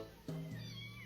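Kitten meowing as several small kittens climb up a person's pants and back, a short close cry rising suddenly then holding a steady tone for under a second, with faint background noise.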